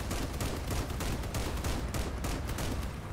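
Vehicle-mounted guns fire in the post-apocalyptic combat game Crossout as a dense, continuous stream of rapid shots, loud and close, with no breaks for the whole stretch.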